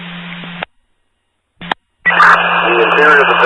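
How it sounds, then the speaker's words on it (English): Spotty police radio transmission: bursts of static-laced voice traffic cut in and out, with short dropouts of dead silence before a longer crackling transmission with talking resumes. "transmissions are a bit spotty"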